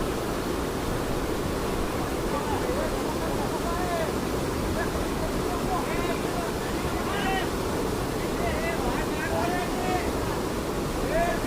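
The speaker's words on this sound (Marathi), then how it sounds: "खैराट गावाजवळ ओढा झाला ओव्हरफ्लो ग्रामीण भागातील रस्ते गेले पाण्याखाली" An overflowing stream floods a rural road near a village, a loud continuous roar and rush of water filling the whole stretch, with faint voices calling in the background.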